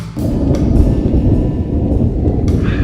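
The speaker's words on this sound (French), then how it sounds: "ça fait à peu près 2 heures qu'il y a de l'orage et de la pluie" Heavy mountain thunderstorm rain pours steadily while deep thunder rumbles loudly and continuously, with a couple of sharper crackles breaking through.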